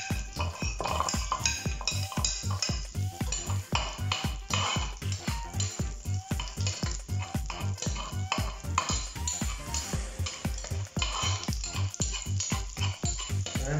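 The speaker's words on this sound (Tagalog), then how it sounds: "gisa na natin yung bawang at sibuyas" Garlic and onions sautéing in a pan for shrimp sinigang, giving a continuous sizzle with fast, regular scraping and clinking of a utensil stirring against the pan, close and steady throughout.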